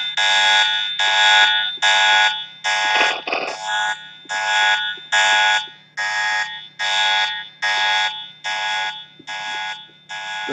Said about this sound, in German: Irgendwann hört der Alarm wieder auf hier, das Getröne.